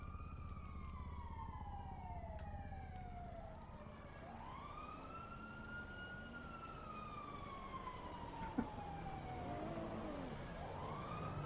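An ambulance siren in the video game Anno 1800 wails steadily, its pitch sweeping up and down in long cycles over a constant low engine rumble; no voices.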